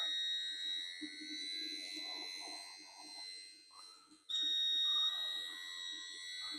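A car's electric power steering pump, fitted in a Ford Coyote engine swap, drones with a steady high-pitched electric whine and faint mechanical rattling underneath, suddenly growing louder partway through as the pump speeds up.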